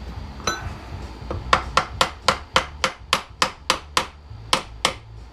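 Metal hammer strikes driving a pin out of a Honda ATV brake caliper, about sixteen sharp ringing blows at a steady, even rhythm, close and loud with no talking.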